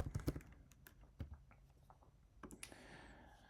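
Computer keyboard typing during a walkthrough of enrolling students in an online group, heard as a quiet run of scattered, irregular key clicks with uneven pauses.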